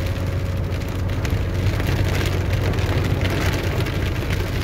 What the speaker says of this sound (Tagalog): parang mahina na ang ulan dito kaunti